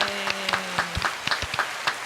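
A studio audience claps for a 200th-episode show, a short burst of sparse, crisp hand claps at moderate volume with no talking.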